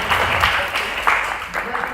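Audience applause at the Integration Bee Austria math competition finals, a brief wash of clapping in the hall heard beneath someone speaking over a microphone.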